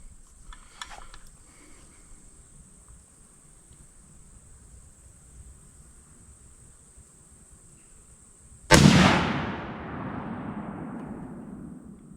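A single loud rifle shot from a .30-06 firing 165gr Federal Fusion ammunition outdoors, a sharp crack followed by a long rolling echo, after a quiet stretch with steady insect chirping in the background.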